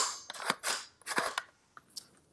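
The action of an FN PS90 rifle chambered in 5.7x28mm is worked during a safety check, producing a quick series of sharp metallic clacks and snaps, close and alone.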